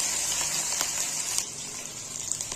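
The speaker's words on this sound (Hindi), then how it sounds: "थोड़ा सा फ्राई कर लूँगी" Chopped onion and ginger-garlic paste frying in hot oil, a steady bright sizzle that holds evenly throughout, close by and with no one talking.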